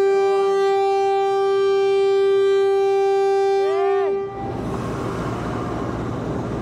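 A Philippine National Railways (PNR) train on its final day before closure sounds a long, loud, steady horn blast that stops abruptly. A broad rumble of the train rolling away follows.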